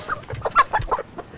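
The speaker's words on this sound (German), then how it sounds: "Und dann kamen 50, 60 Hühner gleich an und seitdem heißen sie eben alle Helga." A flock of around fifty or sixty chickens clucks close by as they gather around a visitor, with a busy run of short, overlapping clucks and squawks.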